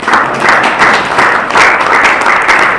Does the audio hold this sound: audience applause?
yes